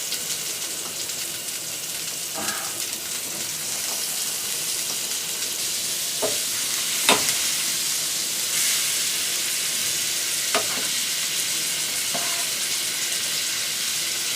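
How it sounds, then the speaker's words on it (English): Meat strips searing in butter in a hot pan on a hunting-trip cookout, a loud, steady sizzle and hiss close by with a few faint clinks and stirring scrapes. "I'm going to add just a little bit more butter to this pan and turn the heat up just a little bit more to sear them real good"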